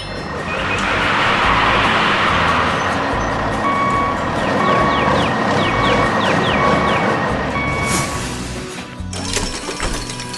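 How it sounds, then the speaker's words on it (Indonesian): A dump truck at a construction site tipping its heavy load onto the ground: a loud, sustained rumbling roar lasting most of the time, with steady reversing beeps layered over it, ending in a brief clatter. "Beban berat itu pun tumpah ke tanah dengan suara gemuruh."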